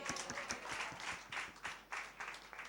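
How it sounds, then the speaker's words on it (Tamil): Congregation clapping during a Tamil church Sunday service, a loose run of handclaps with uneven bursts and pauses, moderately faint and roomy, with no one talking over it. "கைத்தட்டுங்க"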